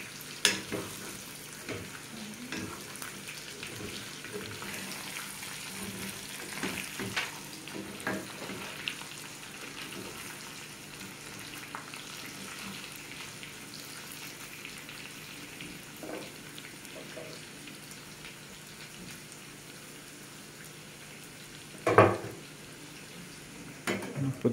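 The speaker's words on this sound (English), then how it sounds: "And stir it well." Dal bhat ingredients being stirred in a pot, a soft steady sizzle of frying under light scraping, fairly quiet throughout with a sharper clatter near the end.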